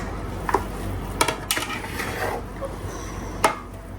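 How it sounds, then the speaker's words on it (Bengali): Scraping and clinking of a large spoon or ladle stirring food in a cooking pot, a few sharp metallic knocks against the pot rim over a low kitchen background, no talking. "ওরে বাবা, চামিচে কুলাবে না, এটা দিয়ে নাড়া দিতে হবে।"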